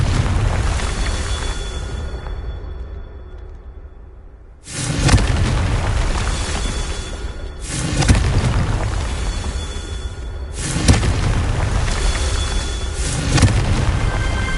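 Confringo fire spell bursting in the Hogwarts video game: a quiet lead-in, then three loud, booming blasts about three seconds apart, each with a rumbling tail.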